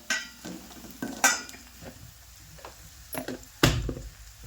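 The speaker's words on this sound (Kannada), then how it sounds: "ಖಾರ ಉಪ್ಪ ಎಣ್ಣೆ ಒಳಗೆ ಫ್ರೈ ಮಾಡಕತ್ತೀನಿ ನಾನು" Chili powder, salt and turmeric frying in oil in a home kitchen, with soft sizzling broken by scattered clinks and scrapes of a spoon against the pan.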